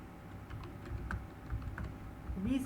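Quiet, irregular keystrokes on a computer keyboard tap out text into a PowerPoint text box, soft and close, with no one speaking.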